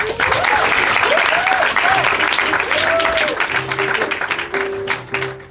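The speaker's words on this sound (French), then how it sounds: "On peut les applaudir?" Applause from a live audience at an improvised theatre match in Paris, steady broadband clapping throughout with voices calling and talking over it, thinning toward the end.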